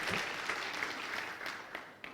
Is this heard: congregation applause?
yes